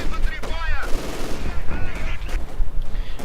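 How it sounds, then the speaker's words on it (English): Tank cannons and rapid small-arms fire crackle in a Company of Heroes 2 battle, with Panzers firing amid dense overlapping bursts, loud and continuous under a commentator's voice. "Units are dying, Panzers are firing"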